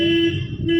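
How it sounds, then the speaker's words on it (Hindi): A car horn sounds during a driving lesson: two short honks in quick succession, loud and close. "हॉर्न दे दीजिए"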